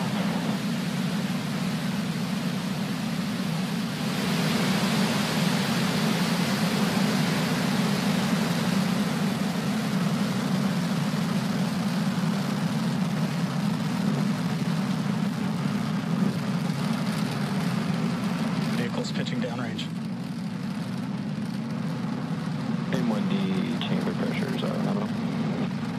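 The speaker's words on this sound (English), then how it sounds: "Ignition and liftoff." SpaceX Falcon 9 rocket lifting off from Cape Canaveral on a Starlink mission, a sustained, loud broadband roar with a heavy low rumble that holds steady throughout, with faint crackle and distant voices underneath.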